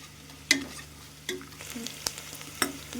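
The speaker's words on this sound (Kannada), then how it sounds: "ಬಿರಿಯಾನಿ ಎಣ್ಣೆಯಲ್ಲಿ ಇದು ವೆಜಿಟೇಬಲ್ಸ್ ಎಲ್ಲ ಚೆನ್ನಾಗಿ ಫ್ರೈ" Vegetables frying in oil for chicken biryani, a soft steady sizzle broken by a few sharp clinks and scrapes of a spoon stirring the pan, close by and heard alone.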